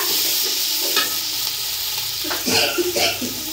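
Turmeric, ginger-garlic and chili pastes frying on a stove give a loud, constant sizzle with scraping strokes as the spice paste is stirred, and a voice is briefly heard under it.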